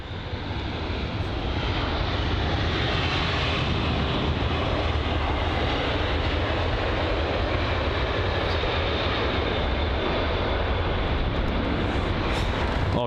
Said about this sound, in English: that's a Finnair A350-900 to Helsinki